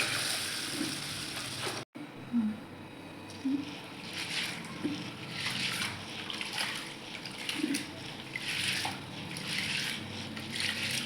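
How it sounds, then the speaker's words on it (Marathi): Wheat grains, a traditional local variety, swished and rinsed by hand in water, giving soft repeated sloshing and splashing with faint trickles, steady and close throughout. "दोन ते 3 पाण्याने व्यवस्थित स्वच्छ धुवून घेणार आहे मी गहू."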